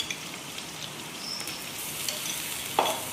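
Vegetables with garlic and ginger sauté in a hot pan, a soft continuous sizzle with a few stirring scrapes and one sharper clink near the end, close and fairly quiet with no voices.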